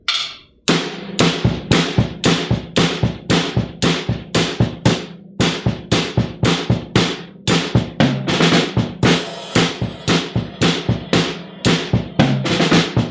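Drum kit plays a steady Motown-style 4/4 groove, with evenly spaced snare and kick hits driving a continuous beat for about twelve seconds, loud and close with no talking.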